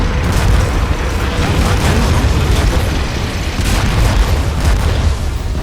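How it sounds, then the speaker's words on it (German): Heavy shelling in the video game War Front: Turning Point, a dense barrage of booming explosions layered over one another, loud and continuous with sharp bursts rising above a rumbling low roar and no pause throughout. "Wir sind unter heftigem Beschuss!"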